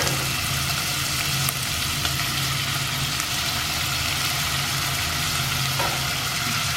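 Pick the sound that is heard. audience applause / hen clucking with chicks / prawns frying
prawns frying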